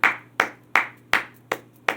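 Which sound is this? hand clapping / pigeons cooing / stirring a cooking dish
hand clapping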